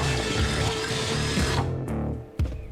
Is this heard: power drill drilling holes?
yes